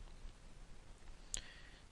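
A single sharp mouse click on a computer, brief and close, over a quiet background hum.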